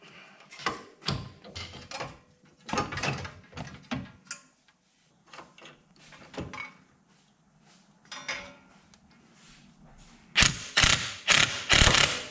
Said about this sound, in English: As I take this nut off, the whole thing's going to fall